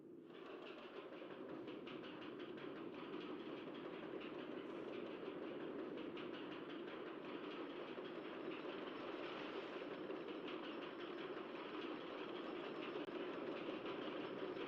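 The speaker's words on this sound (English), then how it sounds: "Let's run a ghost train." A ghost train coaster in the OpenRCT2 theme park game rumbles along with a faint, steady clatter of rail cars, continuous and even throughout with no talk.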